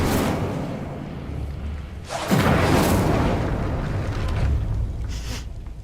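A fire spell from the Hogwarts Legacy video game goes off with a deep whooshing boom that flares up suddenly and then roils on as a rumbling burn, with a second softer surge near the end.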